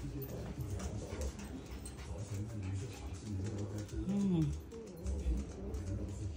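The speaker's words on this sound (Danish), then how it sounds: "Der er så mange hunde" Several dogs whimper and make soft whining calls at low level, with a pigeon-like coo mixed in and faint background voices.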